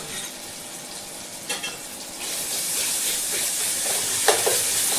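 Fresh ginger-garlic paste fries in hot oil for a chicken fry, a steady close sizzle that swells louder partway through, with a couple of faint utensil taps.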